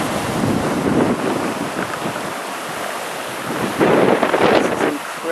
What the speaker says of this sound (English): We never see waves like this.